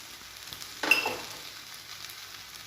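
Soya chunks and rice frying with a spoonful of garam masala for a Bengali soya pulao: a brief surge of sizzle near the start that settles into a soft, steady crackle, with no one speaking.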